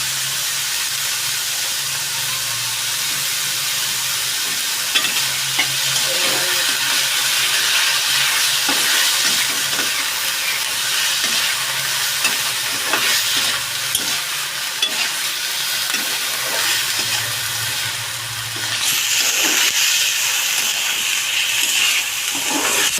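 Chicken momo filling fries in a pan, a steady loud sizzle and hiss with repeated stirring scrapes running throughout, steam rising, no voices.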